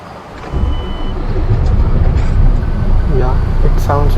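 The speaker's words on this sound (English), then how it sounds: "I don't know whether it sounds exactly like the Neoplan Starliner bus, but it sounds different, like a bus." A Neoplan Starliner bus engine in Euro Truck Simulator 2 starts up into a loud, low, rumbling idle, with someone talking over it.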